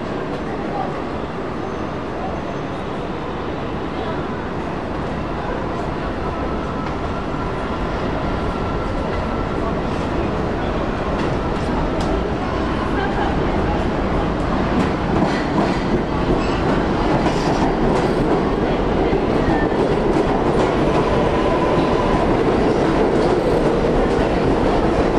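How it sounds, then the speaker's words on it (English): A New York 7 express subway train pulling toward a station along Queens Boulevard, a loud continuous rumble and rattle of wheels on rail that builds steadily, with a voice speaking over it. "Express 7 train to Flushing Main Street."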